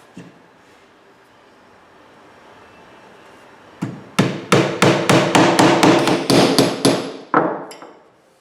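Hammer blows drive nails into a wooden window screen frame, a quick run of about a dozen sharp, loud, evenly spaced strikes close by, following a few seconds of quiet.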